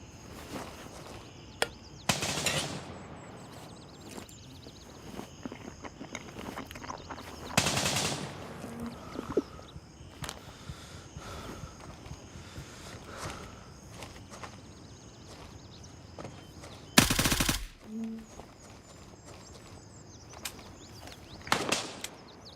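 Gunfire from strafing in the video game Gray Zone Warfare, heard as a few separate loud bursts spread across a quieter ambient background with faint footsteps, with no talking.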